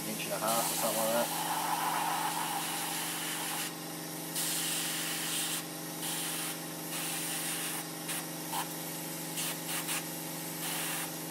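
An airbrush hisses in repeated bursts of fine paint spray, starting and stopping over a steady compressor hum, with a voice speaking briefly at the start.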